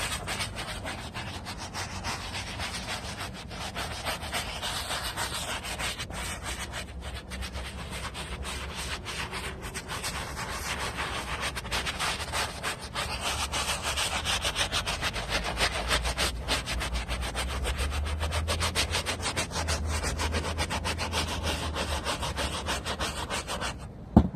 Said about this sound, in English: just keep scrubbing in like a circular motion, and it's just gonna start working